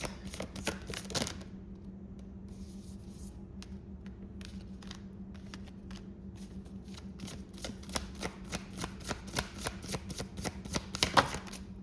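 Tarot cards are shuffled and riffled in a steady run of rapid flutters and soft slaps, close and fairly loud over a low background hum, with a denser burst of riffling near the end.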